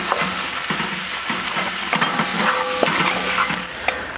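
Beef and noodles in oyster sauce stir-fry on a Kamado Joe Classic II grill, with a steady loud sizzle and scraping, clattering strokes of the utensil through the noodles, nobody speaking.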